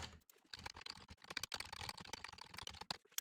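Rapid, irregular keystrokes on a computer keyboard as code is typed, close and fairly quiet, in bursts with short pauses.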